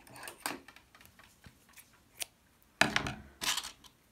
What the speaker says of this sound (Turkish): Ve ipi kesiyorum.